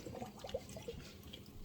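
Water pours into a silver coriander bowl set in a kitchen sink to soak and wash dry eru leaves, a soft, steady splashing trickle with a few brief gurgles, close and fairly quiet.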